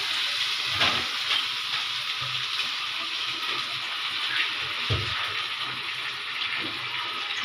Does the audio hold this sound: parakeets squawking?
no